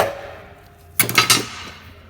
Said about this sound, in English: just hit the back side of the hammer or the screwdriver